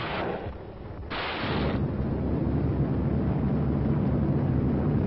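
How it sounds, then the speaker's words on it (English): Warships fire massed artillery salvos at the Normandy beaches on D-Day, heavy booming blasts rolling into a continuous thunderous rumble, loud and distant-sounding, with no voices. "firing their massed salvos with close precision until the troops were 300 yards from the beaches"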